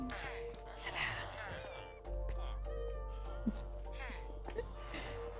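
Several cats meowing indoors, faint intermittent mews under a steady hum, with someone talking quietly across most of the stretch.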